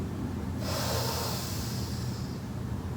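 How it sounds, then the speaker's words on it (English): One sharp, close breath drawn in through the nose during a hip-flexing psoas exercise, a hissy inhale that starts abruptly and stays steady with no voice over it. "I'm going to inhale through my nose to increase awareness to the psoas."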